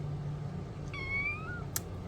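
A house cat gives a single clear, rising meow, close and fairly quiet over a low background hum, followed by a short knock.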